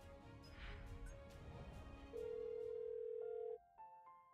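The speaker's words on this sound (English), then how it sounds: "A phone call." An in-game telephone in Troubleshooter: Abandoned Children sounds a steady, loud electronic tone for over a second above the background game music, followed by a few short stepped beeps.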